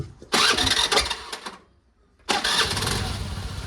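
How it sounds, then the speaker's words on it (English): A Bajaj Pulsar engine under restoration cranks and catches, running loudly and close for about a second, cutting out, then starting again and settling into a steady idle. "let me start the scooter."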